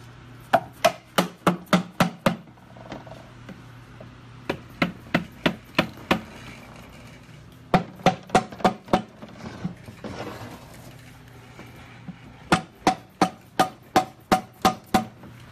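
Sharp hammer blows knock at the stuck, silicone-sealed front cover of a 2013 Nissan Sentra RE0F11A (JF015E) CVT transmission during disassembly, arriving in several quick bursts of five to eight strikes separated by short pauses.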